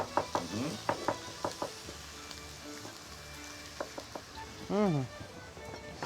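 Meat (horti mis, with potatoes) frying in oil in a pan, a steady close sizzle with scattered clinks and scrapes of a utensil; a brief voice-like tonal sweep rises near the end.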